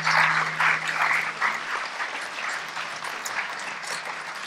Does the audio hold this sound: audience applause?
yes